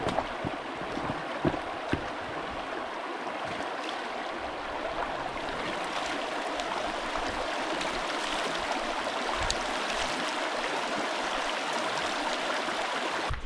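A river flowing where a dirt bike trail crosses it, on a back-road trail ride, makes a steady, close rushing wash that fills the whole stretch without pause, with no talk over it.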